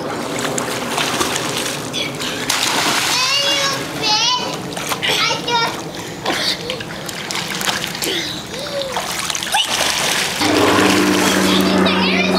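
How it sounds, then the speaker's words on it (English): A boy's cannonball jump lands in a backyard swimming pool with a splash amid children's chatter and excited voices, followed by trickling and sloshing water. "That was Ben's cannonball."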